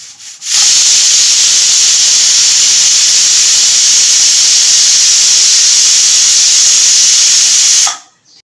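A pressure cooker cooking egg and chicken biryani releases a loud, continuous steam hiss for several seconds, steady and close, starting and stopping abruptly.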